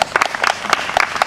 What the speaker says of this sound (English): Let's give these guys an applause.